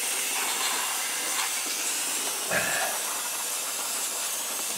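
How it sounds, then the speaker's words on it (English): Can of brake parts cleaner sprayed onto a stuck, dragging parking brake assembly, giving a continuous loud hiss throughout with a brief knock partway through. "another can of brake parts cleaner"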